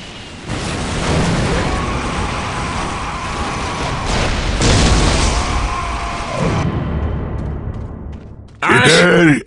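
Heavy booming explosions roll through an Ork battle in Warhammer 40K Dawn of War Soulstorm, loud rumbling blasts over continuous combat noise, then a brief shouted voice at the end.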